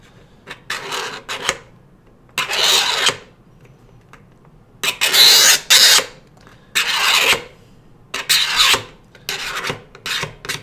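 Hand sanding of ridges between wooden panels, loud close scraping strokes in bursts of one to two seconds separated by short pauses, each pass rough and raspy.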